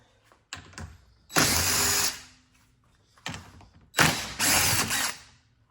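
A ratchet works on 10mm bolts beneath the carpet of a Tesla Model 3 or Model Y: two pairs of close, loud passes, each beginning with a few quick clicks and then a steady buzzing ratchet run, with quiet gaps between.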